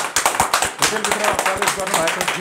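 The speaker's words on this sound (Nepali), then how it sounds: "जोरदार ताली बजाउँ" A crowd at a Nepali political rally claps in quick, dense bursts, the applause rising and falling while a voice speaks over it.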